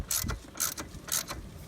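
Ratchet snugging bolts on a MerCruiser Alpha One sterndrive lower unit, giving three quick bursts of clicking strokes at close range with no talk over them.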